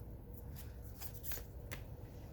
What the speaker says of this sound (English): Let me pull a couple of these cards for you.